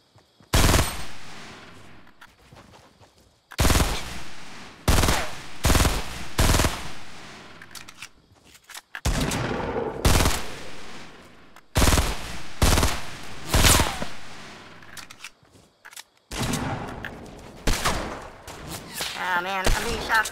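Bursts of rapid automatic gunfire in a Fortnite match, loud and close, coming in repeated volleys separated by short pauses, with some talk around the shooting.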